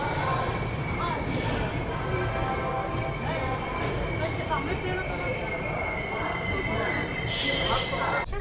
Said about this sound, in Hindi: ट्रेन कानपुर से निकल चुकी है।